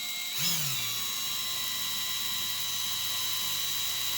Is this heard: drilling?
yes